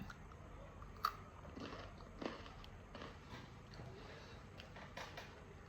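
Crunchy dried vegetable chips such as sweet potato and pumpkin being chewed close to the mouth, with soft repeated crunches and a few sharper bites over a quiet background.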